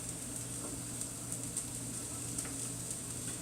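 Green beans and onion sauté in a pan, giving a quiet, continuous sizzle with faint ticking pops scattered throughout and no talking.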